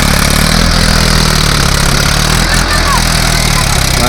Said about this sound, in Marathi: तर पहा ही आता नांगरणी चालू आहे